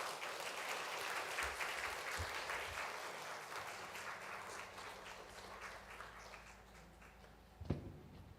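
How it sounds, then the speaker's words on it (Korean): A church congregation gives steady welcoming applause at a Sunday morning service, a dense wash of many hands clapping together, moderately distant and sustained throughout, with one brief louder knock near the end. "우리 환영하는 박수 한번 부탁합니다."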